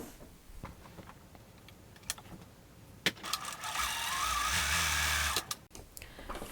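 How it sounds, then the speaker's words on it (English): A sewing machine stitches a sweater dress top onto its skirt at the waistline: scattered clicks, then a loud, steady whirring run of about two seconds that stops abruptly, followed by faint handling sounds. "zigzag the waistline, and then sew the top over the skirt"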